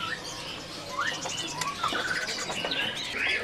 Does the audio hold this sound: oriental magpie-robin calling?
yes